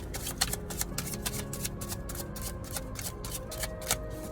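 Tarot cards are shuffled by hand in quick, regular riffling bursts, a crisp close-up flutter repeating about ten times with no talking.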